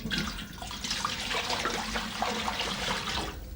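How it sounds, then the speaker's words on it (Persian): A jug of water is poured into a cooking pot, a steady, fairly quiet splashing gush lasting a few seconds, close by with no talking. "یک پارچ آب داخل قابلمه میریزیم."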